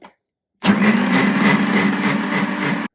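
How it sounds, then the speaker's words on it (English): A kitchen blender whirs loudly and steadily, blending cold coffee with chilled milk and ice cubes; a single continuous motor run of about two seconds that starts and stops sharply, with no talk. "Use your blender and voila, your easy cold coffee is ready in no time"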